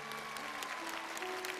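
Studio audience clapping to welcome a virtual singer onto a television stage show, a continuous patter of applause at low level, with held musical tones sounding underneath.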